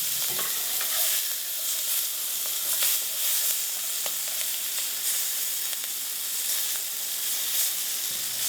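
Smelt fish fry in a pan with minimal oil, giving a continuous loud, even sizzle and hiss with occasional light stirring scrapes, no voices.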